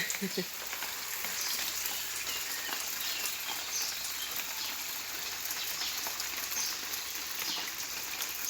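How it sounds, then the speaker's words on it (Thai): Steady splashing from an artificial water fountain, a dense broadband patter like spray falling onto a surface, continuous and fairly close throughout with no talking. "น้ำพุประดิษฐ์"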